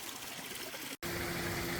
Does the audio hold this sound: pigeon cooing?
no